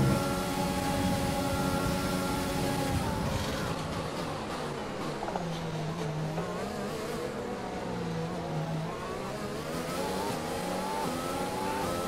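Formula 1 race car engines at the Belgian round in F1 2020, with a McLaren close behind: a continuous high-pitched whine rising and falling through gear changes, loud and sustained with no talk over it.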